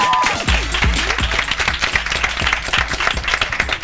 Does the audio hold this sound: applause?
yes